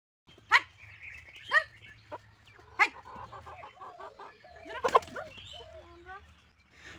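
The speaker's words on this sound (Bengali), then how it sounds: "তো দেখতে পেলে মুরগিগুলো বড্ড জ্বালাচ্ছে, মোবাইলের সামনে গিয়ে গিয়ে ওরা খুব ডিস্টার্ব করছে, ঠোকাঠুকি করছে মোবাইলের সামনে গিয়ে।" Chickens clucking and pecking close around a phone on the ground, scattered near clucks and short calls over a quiet outdoor background, with taps and rustles between.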